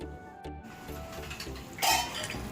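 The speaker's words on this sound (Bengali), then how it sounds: "এরপর আমি এটা কিছুক্ষণের জন্য ঢাকা দিয়ে দেবো সিদ্ধ হওয়ার জন্য।" Lid set onto a cooking pan of chili chicken with a short metallic clatter near the end, over a steady background of kitchen and cooking noise.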